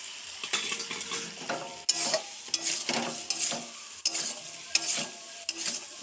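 Potatoes and spices sautéing in a pan, with a steady sizzle broken by repeated sharp scrapes and clacks of a spoon stirring at irregular intervals, close and fairly loud, no voices.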